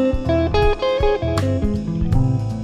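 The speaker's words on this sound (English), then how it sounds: "we're going to play augmented arpeggios over them" Guitar notes ring out in quick ascending and descending augmented arpeggio runs over sustained chords, bright and close with no talking.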